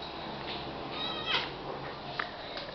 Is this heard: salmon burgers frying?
no